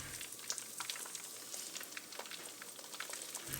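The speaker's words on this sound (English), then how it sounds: "Allow the eggs to sit in the pan and take on shape." Eggs frying in a pan for a tomato and egg stir-fry, a soft, steady sizzle with faint scattered crackles, quiet and close, with no talking.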